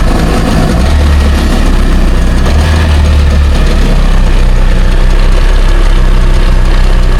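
A jet ski engine runs steadily after a cheap purchase and repair, a loud continuous low idle with a throbbing rumble and mechanical vibration throughout, close by and with no talk over it.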